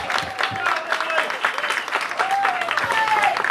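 Audience at a singing contest applauds for a contestant, a lively crowd clapping with scattered cheers and voices mixed in, fairly close and sustained.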